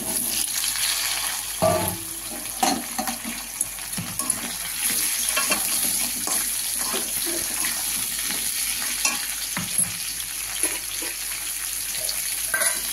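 Cut potato and raw papaya hitting hot oil in a frying pan for pepe macher jhol, a steady loud sizzle with a few stirring scrapes and knocks throughout.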